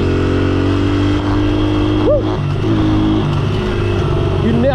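A Honda XR80 motorcycle with a carburetor set far too rich runs close by, its engine revving and droning continuously with a brief rising blip, a voice talking over it.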